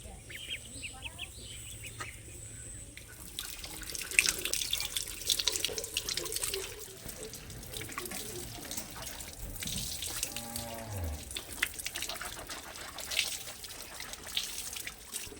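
A tap runs steadily into a sink while someone washes their face, a soft continuous trickle and splashing, with chickens and birds faintly in the background.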